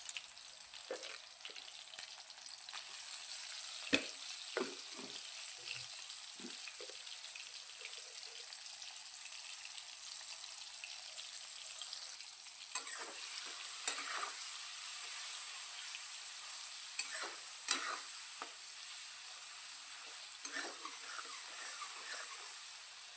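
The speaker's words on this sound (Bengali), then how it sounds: "তেলের মধ্যে টমেটোটা দিয়ে কিছুক্ষণ একটু নেড়ে চেড়ে টমেটোগুলোকে আমি নরম করে নেব" Tomatoes frying in hot oil in a pan, a steady soft sizzle broken by scraping stirs and light clinks from a utensil, quiet and close with no talk.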